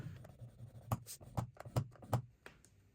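A tool scores lines into cardstock for perfume cards, making a series of short, close scratching strokes in an uneven rhythm, quiet and without talk.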